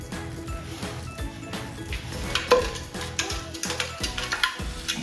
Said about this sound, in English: ngoku siyaxuba senza intlama yethu